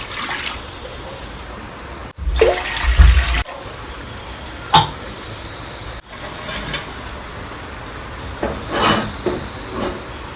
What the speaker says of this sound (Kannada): ಇವಾಗ ಇದೇ ಗ್ಲಾಸಲ್ಲಿ 3 ಗ್ಲಾಸ್ ನೀರು ತಗೊಳ್ತೀನಿ ಆಯಿತಾ.